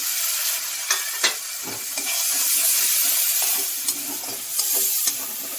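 A splash of water hits Kashmiri chili powder frying in a pan, raising a steady, loud sizzle and hiss that swells and eases, broken by a few sharp stirring scrapes, with no voices.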